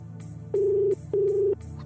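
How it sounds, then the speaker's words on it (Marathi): An unanswered phone call rings twice as a ringback tone, each long electronic burzz separated by a short pause, heard clear and alone. "तुम्ही डायल केलेला नंबर उत्तर देत नाही."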